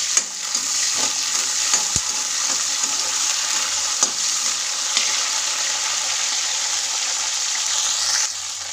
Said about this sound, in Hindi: सबसे पहले हम डाल देंगे इसके अंदर थोड़ी सी ये मटर जो है हमारी, जिससे कि हल्की सी फ्राई हो जाए